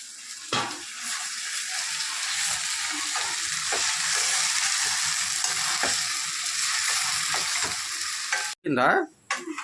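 Chicken sizzles in hot oil in a pan for chicken curry while a utensil stirs it, giving steady crackling frying noise with periodic scraping strokes, close up, ending in a few louder clattering knocks.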